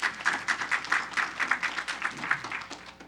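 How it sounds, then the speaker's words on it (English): A small audience at a city keys-to-the-city ceremony breaks into applause, with distinct rhythmic claps pulsing several times a second, fairly close, and tapering off near the end. "Let's give him a round of applause."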